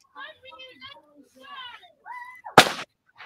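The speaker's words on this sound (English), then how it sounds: "Fireworks." A firework bursts outdoors at dusk during a solar eclipse gathering, one sharp loud crack near the end following several stretches of talking and chatter.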